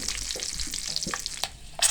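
Green chillies frying in hot oil for a tadka tempering for beef chana daal, a dense crackling sizzle with spattering pops and stirring scrapes, close and loud throughout.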